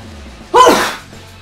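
A single loud, close sneeze bursts out sharply in a quiet room, brief and forceful with a breathy tail, heard alone without talk.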